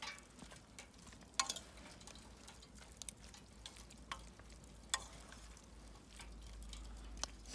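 Brussels sprouts frying on a Weber grill are stirred, giving a soft, steady sizzle with occasional sharp scrapes and clicks of the utensil against the cooking surface.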